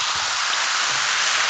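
AHA sparkling water poured out in a steady, close fizzing hiss, an even rush of bubbling carbonation with no break.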